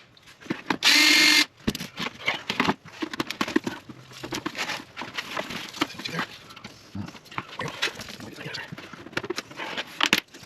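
A screw gun backs screws out of a Honda EU2200i generator casing during pull cord repair, with one loud high whirring burst followed by scattered clicks, taps and handling noises close by.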